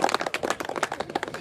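Mourners at a funeral farewell in San Juan de Juta clap together in dense, uneven applause, close and moderately loud, with no talking.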